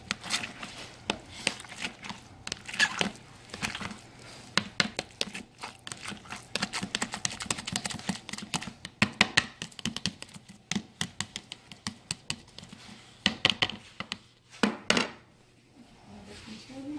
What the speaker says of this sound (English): So I just take my little potato masher.